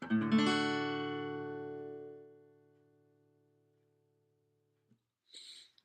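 A single acoustic guitar chord is strummed once and left to ring, decaying slowly over a few seconds before a brief faint rustle.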